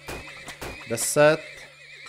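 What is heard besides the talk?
horses neighing, video game Turmoil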